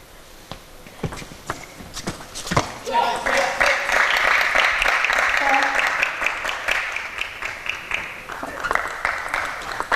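Audience applause at a T2 APAC 2017 table tennis match, a sustained burst of clapping swelling after scattered claps and fading unevenly, with commentators talking over it.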